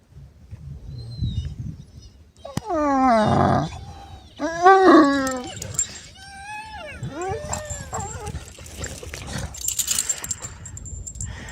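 Dogs scuffling and thrashing around in harsh winter conditions, with whimpers, yips and growling noises in bursts, fairly close.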